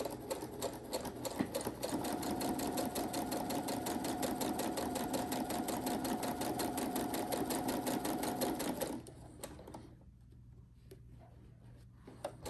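Sewing machine running steadily at close range, stitching closed the opening of a fabric basket with small stitches, a continuous rapid mechanical hum for about nine seconds before stopping, leaving quiet handling noises.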